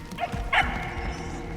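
A dog in the Guardians of the Galaxy video game gives a couple of short yipping barks, close and fairly clear, over a low game soundscape.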